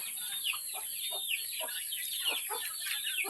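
Chickens cluck repeatedly in short, overlapping bursts, fairly close, with a steady high-pitched hiss running beneath, while being fed bananas.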